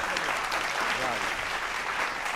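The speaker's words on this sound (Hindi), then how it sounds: "एक बार दोनों हाथ उठाकर उन्हें धन्यवाद करते हैं और तालियां देते हैं" A studio audience at a political satire poetry show gives a poet continuous, dense applause, an even roar of clapping with faint voices mixed underneath.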